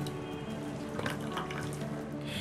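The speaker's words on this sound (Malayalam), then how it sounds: "ഇനി ഇത് നമ്മൾ നന്നായി ഊറ്റിയെടുക്കുക." Boiled carrot liquid being strained for homemade carrot wine, a steady close pouring and trickling of liquid lasting the whole moment.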